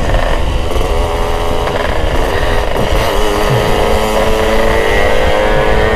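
Motorcycle engine with an underbody exhaust, a loud continuous droning roar with steady low rumble and engine tones, heard close and without talk.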